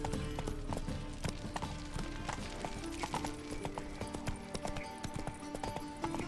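Galloping horse hooves in The Witcher 3 video game beat out a quick, steady clip-clop rhythm over a busy in-game soundscape, with faint background voices.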